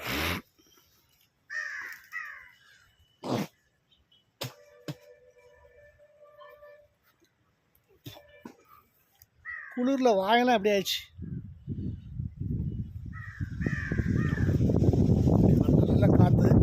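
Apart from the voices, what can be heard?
crows cawing in Ooty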